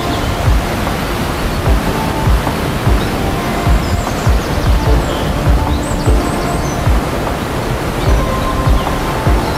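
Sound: waterfall on a river

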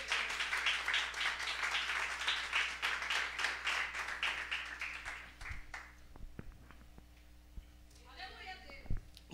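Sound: church congregation clapping hands in praise

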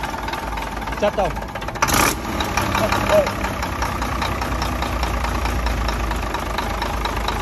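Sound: motorcycle engine idling

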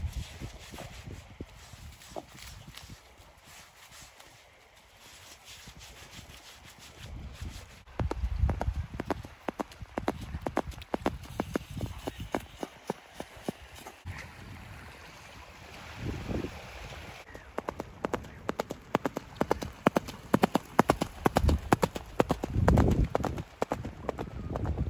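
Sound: horse hooves clip-clopping on beach ride

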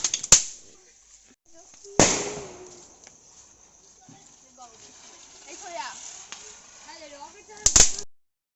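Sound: firecrackers bursting

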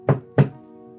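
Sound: knock at a door

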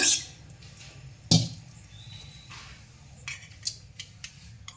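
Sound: tomatoes being put into a mixer jar

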